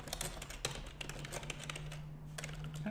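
Rapid, uneven typing on a computer keyboard, close and clear, with a steady low electrical hum underneath.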